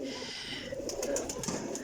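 High flyer pigeons coo in a steady low murmur, fairly close, with faint higher chirps toward the end and no one talking.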